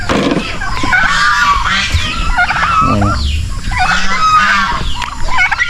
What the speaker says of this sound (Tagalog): Yung mga babaeng pabo, tapos naglagay din ng bagong barako naman.